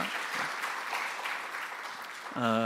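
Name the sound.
church congregation applause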